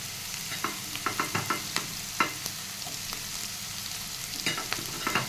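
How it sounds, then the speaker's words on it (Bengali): Capsicum and garlic frying together in a pan for egg chilli, a constant sizzle broken by repeated sharp scrapes and taps of a spatula stirring, close and moderately loud. "তার মধ্যে আমি দিয়ে দেবো ক্যাপসিকাম।"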